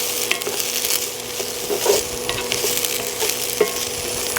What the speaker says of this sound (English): We're gonna add our potatoes. Make sure we get them all. And we're gonna fry these for about 5 minutes.